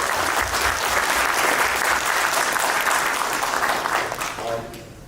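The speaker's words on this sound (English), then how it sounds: "Please give a big round of applause." Audience applause for a guest arriving at a Powerplay Core 26 panel discussion, dense sustained clapping across the whole stretch that tapers slightly near the end.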